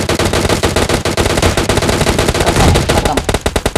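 Loud, rapid automatic gunfire in the battle royale game PUBG Mobile, a dense stream of shots that continues throughout and breaks into distinct separate bursts at the end.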